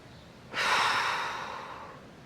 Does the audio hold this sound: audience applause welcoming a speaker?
no